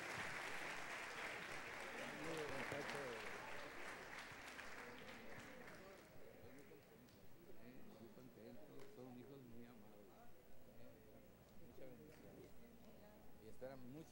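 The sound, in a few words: applause from church congregation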